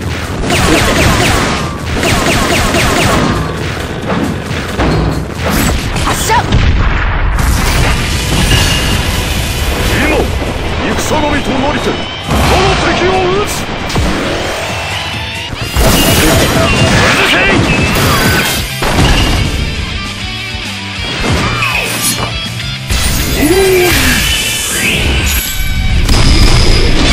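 Loud, continuous battle din from Sengoku Taisen 2.01C: a dense barrage of crashing cannon volleys and bursts over layered music and effects, with voices shouting through it.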